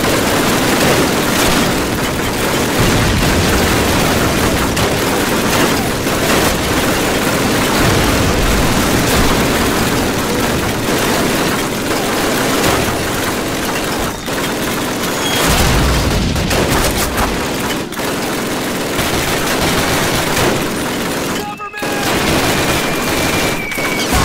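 German mortar explosions and gunfire in the first Call of Duty game make a dense, loud battle din. Booms and crackling bursts of shots overlap continuously, with only a momentary dip near the end.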